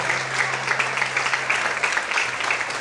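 A church congregation claps continuously in praise, a steady dense wash of applause from many hands filling the room.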